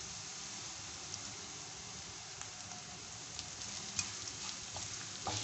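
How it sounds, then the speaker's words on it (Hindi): Okra and potatoes fry in a pan with crushed coriander, giving a steady close sizzle and crackle with small pops throughout and no talk. "इसे हम हल्का सा फ्राई कर लेंगे।"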